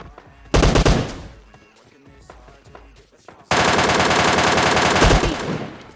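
Automatic gunfire from a PUBG Mobile Lite match: a short loud burst near the start, then a long sustained rapid-fire volley over the final seconds, with scattered quieter shots between.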